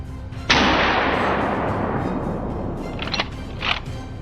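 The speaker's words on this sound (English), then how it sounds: "Without a moment's hesitation, he fired a powerful shot." A hunter's rifle shot at a wild boar herd: one sharp, loud report with a long decaying rumble, then two fainter, shorter cracks following close behind.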